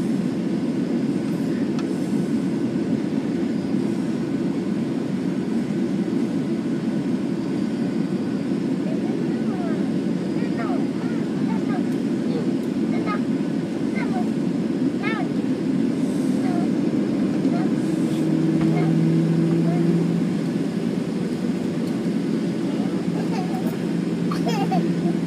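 A United Boeing 737-900ER jet takes off from Houston IAH, its engines a loud, sustained broadband roar that holds steady and swells slightly near the end, with faint radio chatter underneath.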